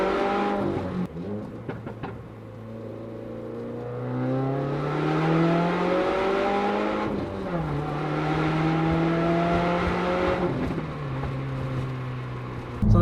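Modified 2015 Subaru WRX with an aftermarket exhaust revving repeatedly, the engine note climbing and falling in several loud, close pulls with a steady idle between them, no talking.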